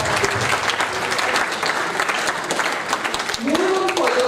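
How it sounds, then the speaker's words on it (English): A large conference audience gives a sustained round of applause, loud and continuous throughout, with a voice rising over the clapping near the end. "So can we please have once again a huge round of applause for our wonderful guys."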